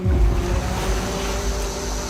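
Sea waves wash and churn around people out on the open sea, a steady, fairly loud rumbling surge with wind buffeting the microphone and no talking.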